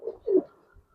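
A pigeon's soft coo from a loft keeping Giribaj and coloured pigeons, two short rounded low calls, close and fairly quiet.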